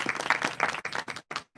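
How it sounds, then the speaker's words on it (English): Audience applause for Brenda McDuffie at an Erie County small business task force announcement, a brief dense burst of clapping that thins into short separated bursts before dying away. "Let's give Brenda McDuffie a great big round of applause."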